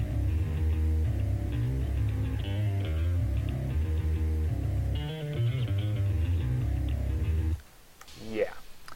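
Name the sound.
metal bass guitar tone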